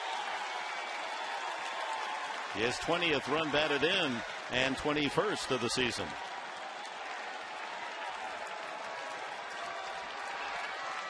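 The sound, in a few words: baseball crowd of Mets fans cheering and applauding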